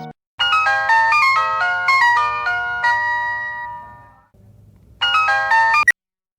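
A phone ringing during a call, a bright electronic melodic ringtone played loudly and alone in two bursts, the first longer and fading out before a brief repeat that cuts off abruptly.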